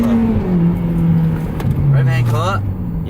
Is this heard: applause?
no